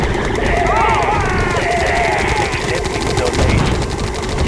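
Sustained automatic gunfire during a base attack in the strategy game Yuri's Revenge, loud rattling bursts mixed with unit noise and game announcer voice lines.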